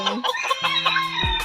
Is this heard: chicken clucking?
yes